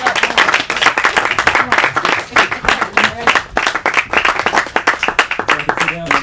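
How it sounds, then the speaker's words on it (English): An audience at a songwriters' workshop applauds as a speaker comes up, dense, loud clapping from a room full of people that carries steadily throughout, with voices mixed in. "Can we give him a round of applause as he comes up?"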